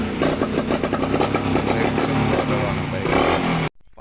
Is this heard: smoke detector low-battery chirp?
no